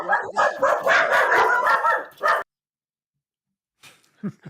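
A person imitates a dog barking, giving a run of rapid, loud yapping barks for about two seconds, then silence followed by a few faint short sounds.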